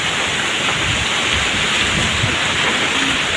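Heavy rain pours down steadily as a dense, even hiss that fills the whole short stretch, loud and close with no voices.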